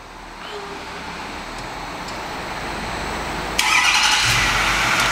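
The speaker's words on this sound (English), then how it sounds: "it also has a remote start here. The car has to be locked. Press and hold here." A 2010 Ford F-250 Lariat Crew Cab with a 6.4 turbo diesel starts by remote. A low idle builds gradually, then a sudden louder burst of engine noise comes in near the end and holds steady.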